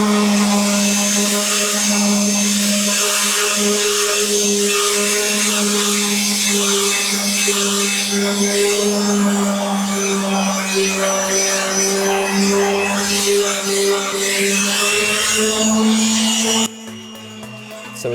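An electric power sander sanding paint whines continuously at a steady pitch with a grinding rasp, loud and close, cutting off abruptly near the end.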